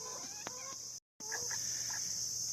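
Chickens cluck in short, close bursts over a steady high insect drone, with a brief silent gap in the middle.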